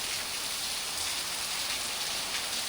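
Rain falls steadily over a Thai countryside home, a dense even hiss with no breaks, moderately loud and alone.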